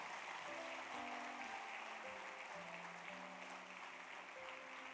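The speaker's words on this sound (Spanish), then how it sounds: "Denle ese aplauso a Jesús, por favor." Applause from a church congregation fills the space with a steady, dense wash of clapping throughout, while sustained organ or keyboard tones ring underneath.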